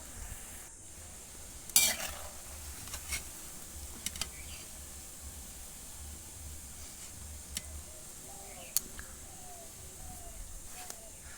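Pumpkin rice-cake pitha fry in oil with a soft, steady sizzle, broken by a few sharp clicks and clinks of utensils, fairly quiet and close.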